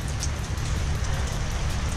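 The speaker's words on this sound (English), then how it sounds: "Unfortunately, we're calling it a day. It's raining too hard." Heavy rain pours steadily outdoors during a cycling outing, a dense, loud, unbroken hiss of drops hitting the surface with no voices.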